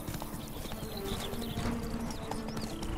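Horse hooves clip-clop at a steady trotting rhythm during riding in the PC video game The Witcher 3: Blood and Wine, quiet and even against faint background sound.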